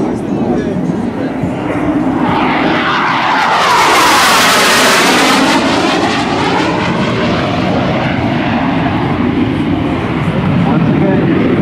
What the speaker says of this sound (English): you will see the Harrier coming in for the traditional low pass